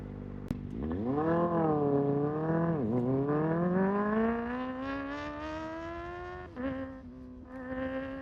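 A Kawasaki ZX-4RR four-cylinder sport motorcycle revs and accelerates, its engine note climbing in a rising whine, dipping at a gear change, then easing off near the microphone with wind noise.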